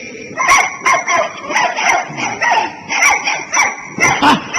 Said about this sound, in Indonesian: Wah, masa si Eti menggonggong begitu?